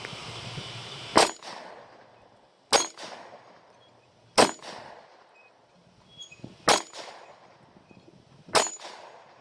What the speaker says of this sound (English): we're getting ready to fire 357 SIG in it, so I give you an idea on the recoil.